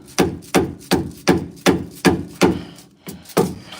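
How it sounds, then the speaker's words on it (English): Dead blow hammer striking a truck part, ten sharp close thuds at a steady, slightly uneven rhythm with short decays and no talking. "I'm hoping the dead blow hammer"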